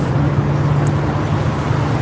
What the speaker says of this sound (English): It's the bus stop.